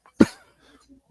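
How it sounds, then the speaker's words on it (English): A single short, sharp cough from a person, close and loud, followed by faint quiet murmurs. "No, that was coughing."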